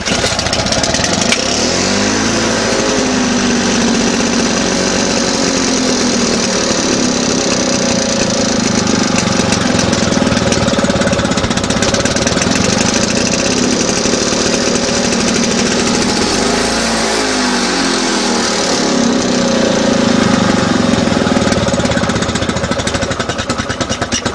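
A Victa lawn mower engine running on a rebuilt plastic G4 carburettor drones loud and close for the whole stretch, a steady buzzing putter with slight surges in pitch.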